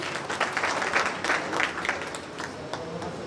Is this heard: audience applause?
yes